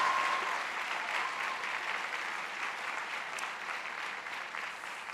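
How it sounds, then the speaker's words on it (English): Applause from the audience at a School of Social Work commencement ceremony, a dense, even wash of clapping from a large crowd, strongest at the start and easing gradually. "Yes, you can applaud for that."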